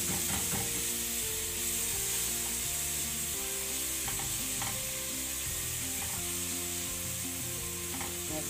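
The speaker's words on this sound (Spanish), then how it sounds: "aquí el tomate, vamos a ver que se guise" Chopped tomato fries in a hot pan for a diabetic-friendly vegetable soup, giving a steady, loud broadband sizzle with occasional stirring clinks, close up and uninterrupted by speech.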